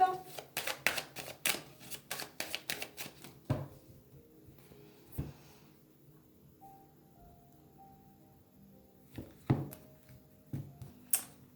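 A deck of tarot cards is cut and shuffled up close in a quick burst of crisp riffling snaps, followed by quieter pauses and a few more scattered card clicks near the end.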